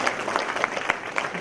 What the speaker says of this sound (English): Ladies and gentlemen, a big round of applause as we honor